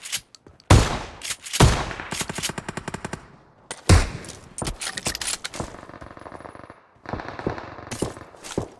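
Rapid bursts of gunfire in the video game PUBG, automatic volleys crackling in clusters with short pauses between them, loud and close.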